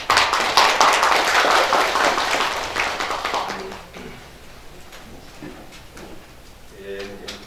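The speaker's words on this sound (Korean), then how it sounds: "격려의 박수를 한번 보내주시기 바랍니다" Applause at a Democratic Party supreme council meeting: a brisk burst of many hands clapping for a few seconds that quickly fades, leaving a quieter room with faint voices and small sounds.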